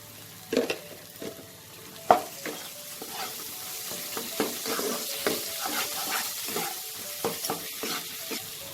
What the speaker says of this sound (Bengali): মশলাটা খুব ভালো করে আমার কষানো হয়ে গেছে।